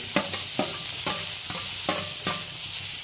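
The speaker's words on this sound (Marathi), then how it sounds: "आपल्याला हे घेतलेले टोमॅटो टाकून घ्यायचे" Tomatoes frying with onions and green chillies in a pan give off a steady bright sizzle, broken by regular scraping strokes of a stirring spoon about every half second, close and clear with no talking.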